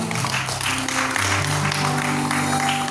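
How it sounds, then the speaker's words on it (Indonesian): Church congregation applauding during a worship service, a dense steady wash of clapping that runs the whole time, mixed with sustained music tones underneath. "Berikan tepuk tangan."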